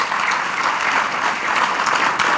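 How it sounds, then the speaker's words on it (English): Steady, dense applause from a large audience fills a hall during opening remarks at the Caribbean Investment Summit 2019, loud and continuous throughout with no voices over it. "She certainly deserves another round of applause."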